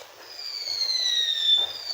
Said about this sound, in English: Whoa, fireworks! Boom, boom.